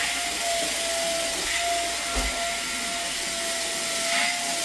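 A carpet vacuum cleaner runs continuously at steady volume with a constant high whine and broad airy rush, close by, while cleaning a heavily soiled rental property carpet.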